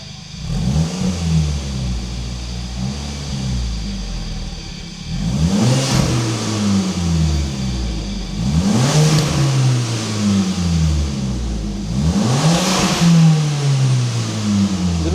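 A VW Scirocco R engine, exhaust valves closed, is revved hard three times at roughly three-second intervals after an initial idle blip, each rev rising sharply then falling back, loud and close with no voices.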